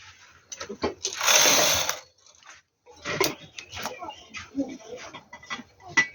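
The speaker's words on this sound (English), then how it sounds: "So right now I'm going to cast on with tension 7 and knit one row first." A knitting machine set to 22 by 22 needles at tension 7 casts on and knits a row, with a long, steady whirring carriage pass followed by shorter clattering, ratcheting mechanical strokes at close range.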